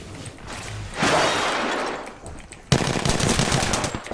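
Gunfire in Apex Legends: a noisy burst of shots, a brief lull, then a sharp, loud onset of sustained rapid fire continuing to the end.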